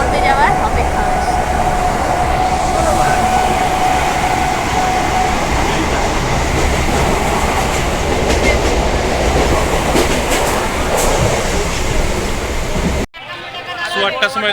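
A passenger train runs steadily on its rails, a loud, continuous rumble and rattle heard from inside the carriage with faint clickety-clack, briefly dropping and shifting near the end.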